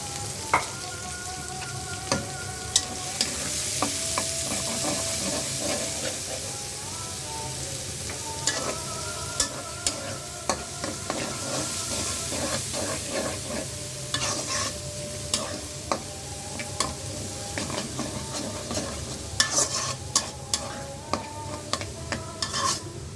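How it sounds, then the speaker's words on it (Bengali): Onions fry in hot oil in a pan with a constant close sizzle, broken by frequent scraping and clinking taps from a stirring utensil, and no talking. "এখন হচ্ছে পেঁয়াজ ভাজবো পেঁয়াজ দিয়ে নিলাম তেলের মধ্যে"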